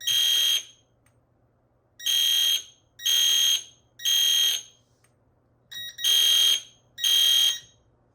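An EST Fire Shield fire alarm system sounds in repeated loud electronic bursts, six about half-second to one-second tones with short silent gaps between them, and no talking.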